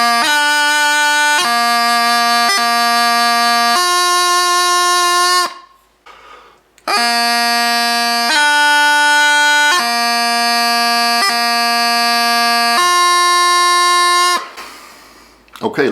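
Bagpipe playing the Fosgailte movement slowly, sustained loud chanter notes over a steady drone with sharp grace-note changes, in two phrases separated by a brief break.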